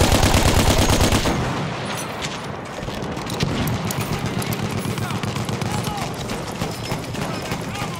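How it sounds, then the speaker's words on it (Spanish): Rapid machine gun bursts in the World War I shooter Battlefield 1, loud and dense with a steady rattling rhythm, mixed with other battlefield gunfire and shouting voices throughout. "¡Ametralladora, dense prisa!"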